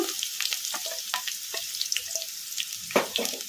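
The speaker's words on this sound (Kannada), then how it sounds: "ಇವನ್ನೆಲ್ಲ ಮೀಡಿಯಂ ಫ್ಲೇಮಲ್ಲೇ ಫ್ರೈ ಮಾಡ್ಕೋಬೇಕು" Chopped onions frying in a pan on medium flame, a moderate sizzle broken by repeated scraping bursts from stirring, with a louder stir near the end.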